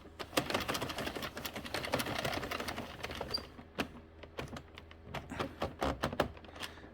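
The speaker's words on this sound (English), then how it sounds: "I'm going to try hand crank a couple of rows and see if we can get past this" An Addi circular knitting machine cranked by hand with Red Heart Comfort yarn, giving a dense run of rapid plastic clicks and ticks, then a pause and sparser irregular clacks and taps, close up.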